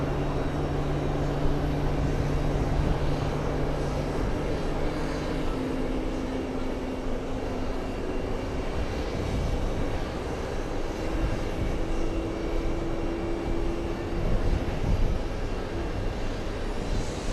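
Airplane engines roar at a busy airport near the TWA Hotel in New York, with jets on the ground near a runway: a loud, steady, broadband rumble and whine holds for the whole stretch, with rising and falling engine tones drifting through.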